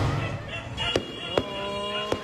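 New Year's midnight fireworks display over the Bangkal area of Davao City: three sharp, separate bangs at irregular intervals, somewhat distant, under a reporter's continuous narration.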